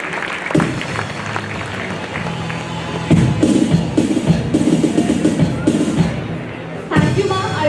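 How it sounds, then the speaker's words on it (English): Audience at a school investiture ceremony claps for a student, steady applause with some cheering and whoops rising partway through, along with a low hum and occasional crowd voices. "A huge round of applause for him."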